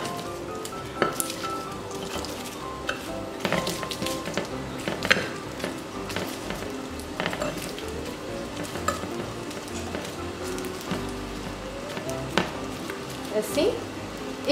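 Potatoes fry in a pan while sea bass is being prepared, a busy crackling sizzle running throughout with occasional clinks and scrapes as the pieces are turned, fairly close and steady.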